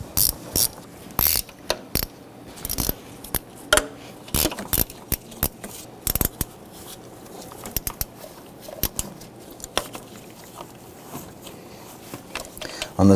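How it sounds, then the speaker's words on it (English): A ratchet wrench loosens intake manifold bolts on a 1997-2006 Jeep Wrangler: sharp, close clicking bursts in irregular runs with quiet pauses between, clattering on and off across the whole stretch. "you want to go ahead and loosen a series of these bolts across the top of the intake manifold"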